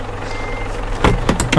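Reversing beeps from a truck in a driving game, a few sharp, evenly spaced electronic beeps over a low engine rumble.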